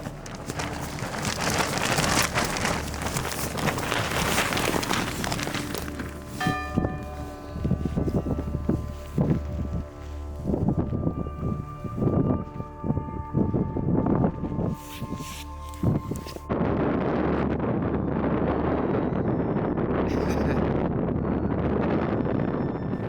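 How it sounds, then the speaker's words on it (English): Strong night wind gusts at the MacDonnell Ranges in the outback, roaring and buffeting the microphone, with lulls of rustling and flapping between the heavy blasts. "Very windy night."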